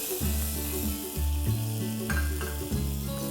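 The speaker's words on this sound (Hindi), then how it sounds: "ये क्रैकल करना शुरू हो गए हैं।" Mustard seeds crackle in hot vegetable oil for tempering, a quiet sizzle broken by faint pops, with a heavy, repeating low hum from the stove or kitchen underneath.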